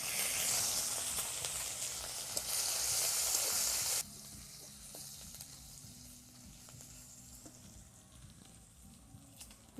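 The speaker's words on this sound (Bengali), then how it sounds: "আদা বাটাটা দিয়ে দিচ্ছি তেলের মধ্যে।" Ginger paste hits hot oil, already tempered with cumin, for a vegetable dal: a loud, bright sizzle for the first few seconds that settles into a quieter, steady frying crackle with faint stirring.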